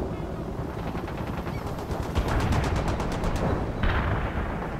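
Repeated heavy firing in the real-time strategy game World in Conflict, a fast sequence of sharp evenly spaced reports over a constant battle rumble, ending in a louder burst; no speech.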